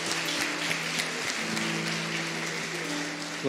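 A church congregation applauds during a service, a steady wash of many hands clapping at moderate distance over a sustained musical tone, with no voices.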